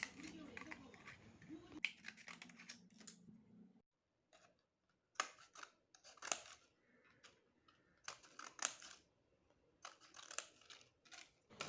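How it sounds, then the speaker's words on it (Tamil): Scissors snipping a paper cup into slices, a series of quiet, close crisp cuts in short clusters separated by silent pauses, with a faint rustle and low hum near the start. "இந்த கப்பை பார்த்தீங்கன்னா இந்த மாதிரி ஸ்லைஸாக கட் பண்ணணும்"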